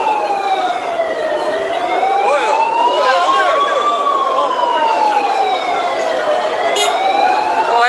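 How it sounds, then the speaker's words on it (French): An ambulance siren wails loudly and close in slow rising and falling sweeps while trying to pass through traffic blocked in both directions during a tense street standoff with police and civil protection firefighters in Algiers. "Donc il y a l'ambulance qui tente de passer."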